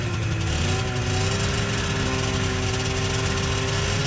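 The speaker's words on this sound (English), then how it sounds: "I'm going to put in a clip of Lonnie's TXL with, you know, same engine." Engine of a TXL minibike running steadily and loud, a continuous droning hum with a strong low rumble and no talk over it.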